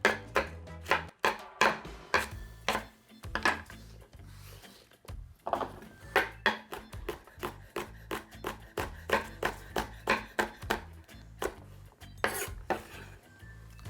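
A sharp knife rough-chops ingredients on a wooden cutting board for mango salsa, a close, steady series of crisp thuds in quick bursts with brief pauses.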